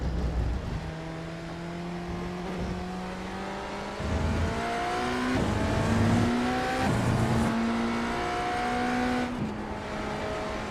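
A BMW GTP prototype race car engine in the iRacing sim, revving loud and close with rising pitch sweeps and repeated upshifts as it accelerates, with faint tire noise underneath.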